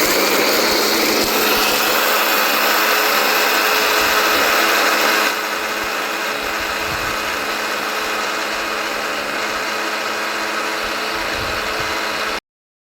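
A kitchen mixer grinder grinding coriander seeds, a loud, steady motor whine with rattling contents that drops slightly in level partway through and then cuts off abruptly.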